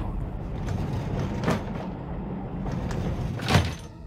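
A train carriage door opens as an audiobook sound effect, heard as two short sliding, clattering bursts over a steady rolling rumble of the moving carriage, with no talk.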